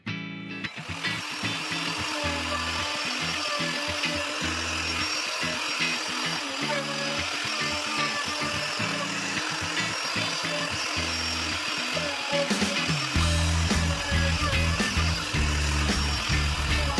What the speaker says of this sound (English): I have to cut 3 flat spots for the legs to attach.